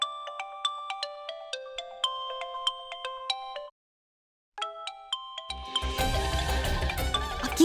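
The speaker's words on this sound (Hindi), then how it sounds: "अब इतनी रात को कौन फोन कर रहा है?" A mobile phone ringtone plays a bright, repeating electronic melody at night, pausing briefly before starting again, then dramatic background music swells in underneath it.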